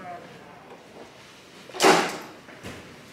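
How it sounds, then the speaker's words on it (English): A door is opened on arrival at a holiday rental in Aruba, giving one loud burst of handle and latch noise with a brief rustle, then a fainter knock a moment later. Quiet room tone surrounds it. "Can I open a door?"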